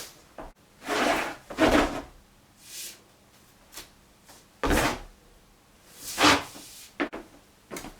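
Wooden jo staff sliding and striking during an aikido kata with a 20-movement sequence, heard as several separate woody knocks and rubbing swishes, spaced irregularly, fairly close and moderately loud with no talk.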